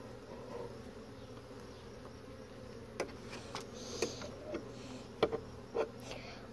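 Honeybees buzz around an opened backyard hive during maintenance, a low steady drone with a few sharper buzzes and taps passing close by.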